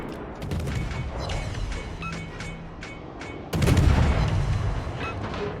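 Warship guns fire in a naval battle game, a series of sharp cracks and booms with one heavy, loud salvo midway that rumbles on, set against continuous battle noise, with no talking.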